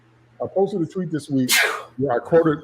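A single loud, breathy sneeze bursts out midway through a man's close speech, standing out sharply between his words.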